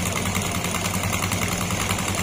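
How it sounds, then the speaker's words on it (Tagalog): A scooter-type motorcycle engine with a CVT and a suspected connecting rod fault idles steadily after starting, a close, continuous mechanical drone with a rough, even pulse and no talk. "Ayan, start na yung makina. Ayan, yan yung tunog nung makina."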